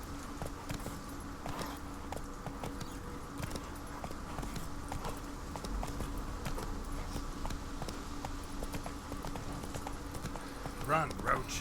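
Hooves of Roach, the horse in The Witcher 3, clip-clop in a steady running rhythm under game ambience and a voice talking throughout, fairly faint.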